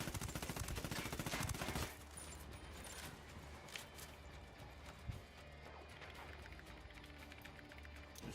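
Rapid gunfire crackles in the opening two seconds, in Ghost Recon Wildlands, followed by quieter background game ambience with a few isolated impacts.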